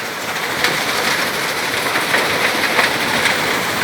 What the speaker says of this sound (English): The sound of industry, of factory moving and machines, big complex machines.